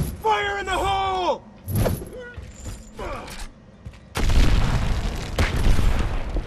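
Grenade blast in the Gears of War shooter game, a loud broadband boom about two-thirds through, following game voices and effects and trailing into a rumbling, noisy tail.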